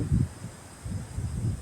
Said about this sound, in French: désolé pour le son, il y a du vent